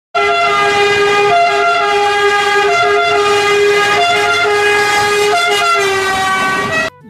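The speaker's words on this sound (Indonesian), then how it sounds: "Mobil ambulan." A toy ambulance siren wails steadily and loudly on its own, a bright electronic tone stepping between two pitches in a repeating pattern.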